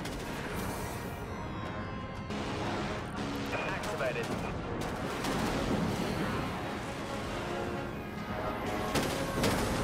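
Flak turrets on a spaceship in the video game Dreadnought fire in rapid bursts of dense, crackling blasts, continuous throughout with booming impacts layered on top and a voice talking over the gunfire.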